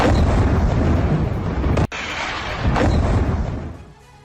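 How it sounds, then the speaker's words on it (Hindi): Continuous heavy rumbling and booming from IDF bombardment of Hezbollah positions in Nabatieh, Lebanon, captured in news footage; loud and sustained, with a sharp cutoff midway before the roar resumes and fades toward the end. "बेरूत के नबातिया में आईडीएफ की बमबारी हुई है।"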